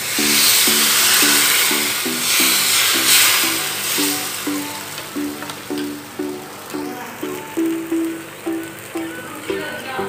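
Neer dosa batter hits a hot pan and sizzles with a bright hiss that fades partway through, while a tonal melody of repeated notes plays alongside.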